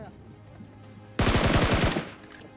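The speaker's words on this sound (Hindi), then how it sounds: "AKM से फायरिंग हो रही थी" Automatic AKM rifle fire in the PUBG Mobile game: one loud, close burst of about seven rapid shots that starts abruptly after a quiet stretch and then cuts off.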